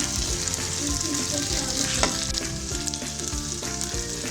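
Potatoes and green beans fry in ghee in a pan and are stirred continuously. A dense, loud sizzle runs throughout with close scraping and clattering, and no voices are heard.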